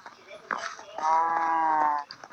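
Cows moo in a farming video game, one long drawn-out lowing call after a few short livestock sounds, with a voice talking faintly around them.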